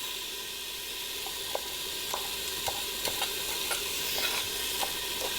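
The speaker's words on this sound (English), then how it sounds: "slice the beef and saute it with a little bit of sesame oil" Sliced beef sautéing in a little sesame oil in a hot pan, a continuous close sizzle with faint periodic scrapes of a utensil stirring the meat, no talk.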